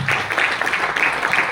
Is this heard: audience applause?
yes